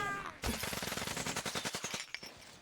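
Gunfire in the Zooba battle video game, a rapid burst of rattling automatic shots lasting about a second and a half, then a single sharper report.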